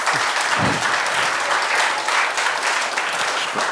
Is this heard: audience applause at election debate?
yes